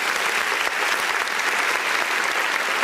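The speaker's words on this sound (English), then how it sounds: "Please give him a round of applause." A crowd applauds at a public event, a thick, steady roar of many hands clapping at full strength throughout, close and uninterrupted, with no voices on top.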